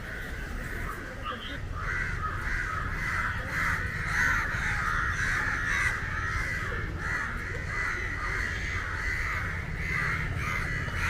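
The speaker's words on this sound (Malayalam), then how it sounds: "കാക്കയെല്ലാം ഇറങ്ങിയല്ലോ." Several crows caw repeatedly near a home, harsh calls overlapping in an ongoing chorus while people talk faintly underneath.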